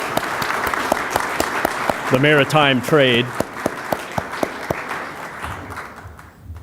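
A conference audience at a naval technology panel breaks into loud applause, dense clapping sustained under a voice speaking briefly over it, then fading out toward the end.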